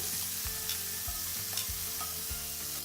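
Raw deveined shrimp sizzle in olive oil in a hot skillet over medium-high heat, a steady crackling fry broken by several soft knocks and stirring scrapes of the pan, with no talking.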